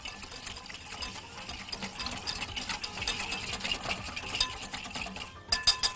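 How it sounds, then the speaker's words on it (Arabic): Garlic and honey marinade for chicken skewers being stirred and mixed in a bowl, a rhythmic close scraping and clinking of utensil against the bowl, with a few sharper clicks at the end. "هقلب المكونات دي مع بعض كويس"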